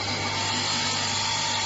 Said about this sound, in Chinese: 调到可以听见2片砂轮有均匀的摩擦声音为止